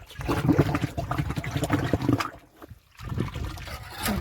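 Water runs and trickles into the tank of a farm spray pump, a close and continuous splashing with a short lull near the end before the flow resumes.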